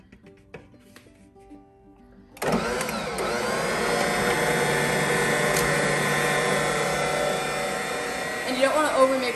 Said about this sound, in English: we're gonna pour it into the mixer and do it at level 1 speed